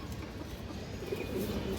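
A female black-necked pigeon, big-headed, coos faintly and low amid a soft steady background, with no other voices.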